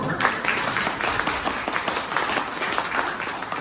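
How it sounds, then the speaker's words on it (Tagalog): A church congregation applauds loudly and steadily in a dense, unbroken wash of clapping that holds at the same level for the whole stretch. "Palakpakan ng Ginoo."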